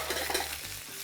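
White asparagus browns gently in a pan, giving a soft, steady sizzle with a few light crackles over about a second, with no voices.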